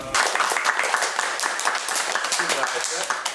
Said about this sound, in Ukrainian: Навряд чи звичайний шкільний урок може закінчуватися дружніми оплесками.